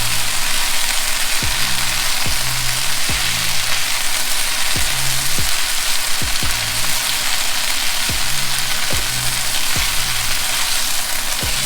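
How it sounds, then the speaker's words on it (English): Water spinach (ong choy) sautéing in a pan, a continuous loud sizzle broken by regular scraping strokes of a utensil stirring the greens, about one every second, close and alone. "I'm just gonna mix it up until it's all softened and nicely sauteed."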